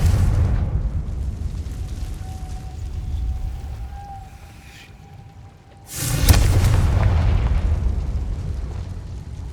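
A Confringo fire spell from the Hogwarts Legacy video game bursts into a loud, booming explosion with a sharp onset and a sustained roaring rumble afterward, set over a low ambient game drone.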